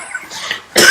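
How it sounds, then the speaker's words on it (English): One person coughs harshly, a short throaty burst after a couple of quieter throat sounds, close and loud. "I just basically watch you cough up a lung"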